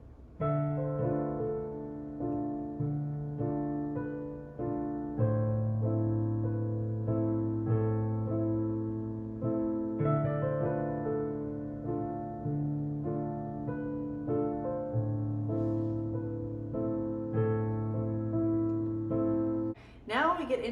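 Solo piano plays at full tempo, a steady repeating left-hand pattern under chords, even and moderately soft throughout.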